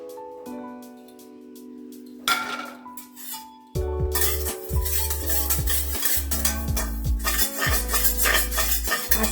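Black cumin seeds dry roasting in a wok, stirred with repeated scraping and clinking strokes against the metal over a low hum, starting sparse and turning into steady, busy rattling, close and fairly loud.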